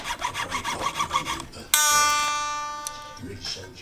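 A nut file rasping in a guitar nut slot, quick rhythmic back-and-forth strokes, then a bright ringing guitar string sustains and slowly fades, close and clear with a voice around it.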